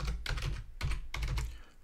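Quick keystrokes on a computer keyboard come in three short bursts of clicky taps, close and clear, with no voices.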